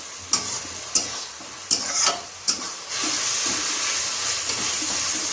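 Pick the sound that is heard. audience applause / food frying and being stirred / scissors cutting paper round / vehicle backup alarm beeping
food frying and being stirred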